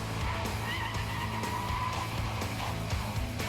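A Camaro SS and a supercharged Shelby GT500 Mustang brake hard from speed, their tires skidding and squealing in a continuous loud rumbling scrub with engine noise underneath.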